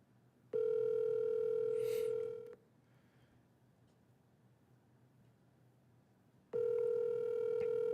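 A telephone call tone sounding through a phone, one long steady tone, then a pause, then the tone starting again, clear and moderately loud.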